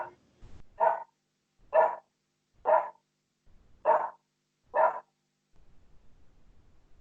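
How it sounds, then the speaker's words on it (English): A dog barks five times in a steady, evenly spaced series, fairly loud and close, with a short bump of noise before the first bark and quiet room tone afterward. "I'm glad the dog is barking"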